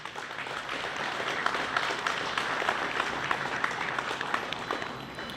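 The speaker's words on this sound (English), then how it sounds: "if we could get a round of applause for them." An audience at a Walmart store event in Addison claps in a steady, even wash of applause that holds for several seconds without letting up.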